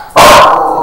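A dog barks once, loud and close, with a sharp onset followed by a short ringing tail; two dogs are in the house.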